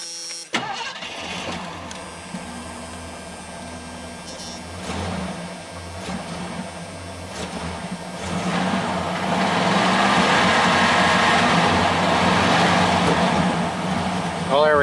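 A 1978 Mercury Marquis engine with a worn accelerator pump cranks and fires, then runs with a rough, uneven idle that swells louder toward the end, heard up close.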